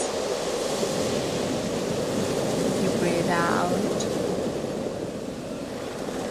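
Steady broadband surf wash of ocean waves on a rocky shore, continuous and fairly loud, with a person speaking softly partway through.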